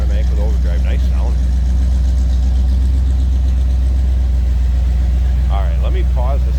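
A 350 crate V8 in a 1947 Ford Deluxe Coupe street rod with a 700 R4 automatic idles steadily with a deep, low rumble throughout, while people talk briefly over it near the start and end.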